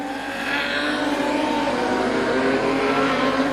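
Production sedan race cars roar through a hairpin at Gympie Speedway, a steady dense engine drone heard from a moderate distance without pauses.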